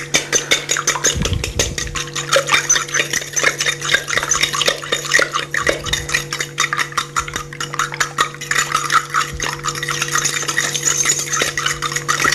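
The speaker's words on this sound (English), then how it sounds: "Whisk that up." Eggs whisked in a bowl for a carp bait mix, giving a steady run of fast scraping, clicking strokes with a low hum underneath and no talking.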